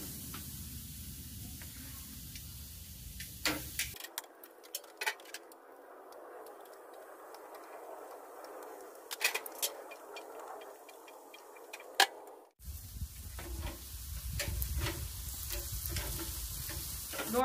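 Chuck eye steaks sizzling on a high-heat grill, a steady hiss and crackle with occasional ticks, moderately close; a brief stretch drops to quieter crackling before the full sizzle returns.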